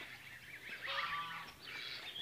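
Geese honk faintly in the distance, a few overlapping nasal calls rising and fading over soft background noise.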